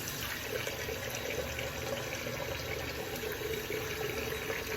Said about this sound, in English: Let me run some more hot water.